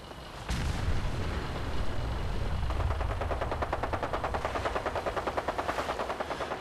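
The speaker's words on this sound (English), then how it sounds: "what the heck is that gunfire?" Sustained gunfire and booming blasts in Fallout 4's Automatron add-on, a loud sudden onset followed by rapid repeating shots that pulse steadily for several seconds.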